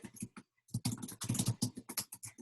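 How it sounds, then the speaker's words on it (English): Close, quiet typing on a computer keyboard during an online group call, a quick irregular run of key clicks after a short pause. "I can hear you typing now."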